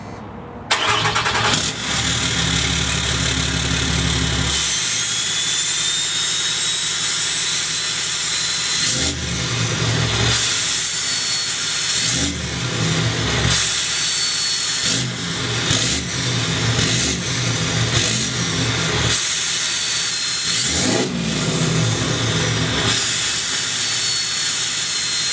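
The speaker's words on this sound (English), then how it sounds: "I'll start it up for you guys. I'll let it idle. I'll do the exhaust brake. I'll do a few revs." Cummins diesel truck engine cranking and catching, then idling with a deep rumble broken by several loud revs and drops, including exhaust-brake bursts, close and loud throughout with no talk.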